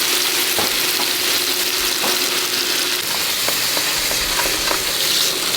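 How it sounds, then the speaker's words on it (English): Curry and yogurt marinated food sizzles steadily on a hot pan, a continuous loud hiss and crackle with occasional sharp pops and utensil clicks, close up throughout with no talking. "Let's see if we get the sizzle."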